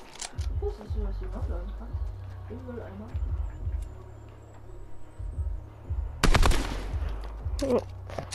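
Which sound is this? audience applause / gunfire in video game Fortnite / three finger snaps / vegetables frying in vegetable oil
gunfire in video game Fortnite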